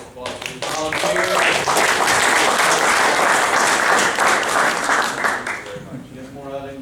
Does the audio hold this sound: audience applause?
yes